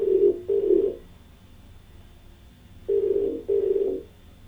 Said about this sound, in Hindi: फ़ोन लगाते हैं अपने अगले कॉलर को, जयप्रकाश जी को